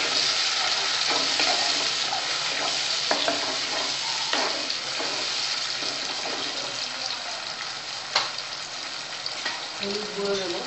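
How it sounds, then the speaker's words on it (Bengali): Tomato puree sizzles and fries in a pan for raw banana kofta curry, a continuous hiss broken by scraping stirs and occasional clinks. "এবারে টমেটো পিউরিটা দিয়ে দিচ্ছি।"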